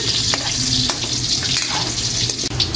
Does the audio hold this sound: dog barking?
no